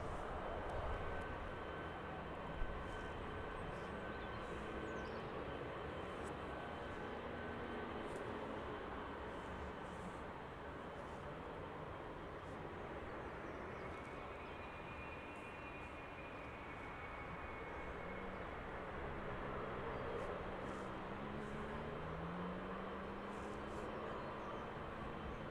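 An airplane taking off at East Midlands Airport bound for Leipzig, a distant, fairly faint jet rumble that holds steady for the whole stretch, with a faint passing tone partway through and no voices.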